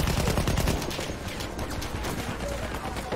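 Sustained bursts of Lewis machine gun fire in the Battlefield 1 video game, a dense rattling stream of shots, loud at first and then slightly softer, with gameplay noise layered over it.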